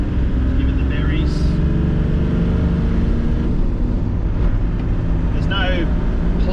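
A Landcruiser with a 1HZ diesel engine and a budget high-mount turbo accelerates hard, a loud steady droning engine roar from inside the cab, with a brief whistle and voices in the background.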